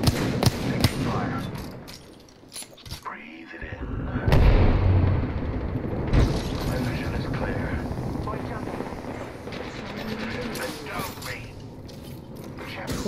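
Gunfire and mechanical clatter in an Apex Legends match, bursts of shots and impacts mixed with game effects and voice callouts, with players talking throughout.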